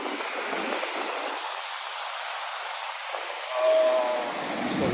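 Sea at night on an Egyptian beach gives a steady, broad roar of surf and wind that swells briefly louder near the end, with no voices.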